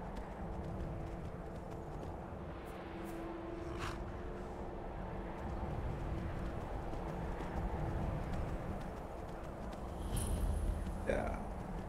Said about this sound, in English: Amazing horse.